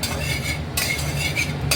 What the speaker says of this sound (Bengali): তো লঙ্কাগুলো ভেজে নেওয়া যাক।